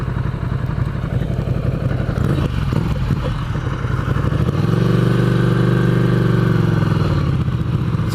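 Ducati Scrambler motorcycle engine heard from onboard, a loud, close, rumbling exhaust at low speed that swells into a stronger, steady drone as the throttle opens midway.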